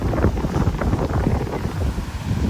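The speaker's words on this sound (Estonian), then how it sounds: "Ja siin on nõks tuulisem hetkel." Strong wind buffets a microphone on the long Tenerife coastline, a loud, continuous low roar and rumble with gusty fluctuations and no speech.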